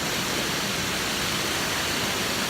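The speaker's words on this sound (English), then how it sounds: "The water's rushing." Steady rushing water of a stream on a park walk, a dense, even broadband wash that stays constant and fairly close, with no voices over it.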